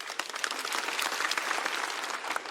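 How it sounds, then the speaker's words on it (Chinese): Audience applause at a stand-up comedy show, a dense, steady wash of clapping from a large crowd, loud and sustained throughout. "希望大家给他们热烈的掌声"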